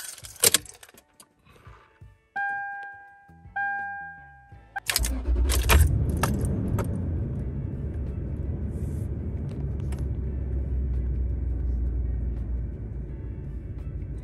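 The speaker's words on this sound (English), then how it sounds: "Start up the car." A car engine cranks and catches at about five seconds, then settles into a steady, loud idle rumble. Before it starts, keys jangle and chime-like warning tones sound, with no talking.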